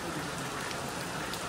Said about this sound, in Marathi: हे बघा पाऊस धोधो कोसळतो.